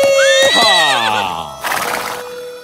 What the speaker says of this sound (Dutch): Dit is mijn paard, Billy Bob.